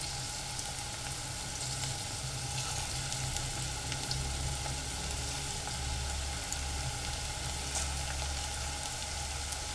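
Small besan pakoras with potato and onion frying in hot oil, a steady, even sizzle and crackle throughout at close range with no voice.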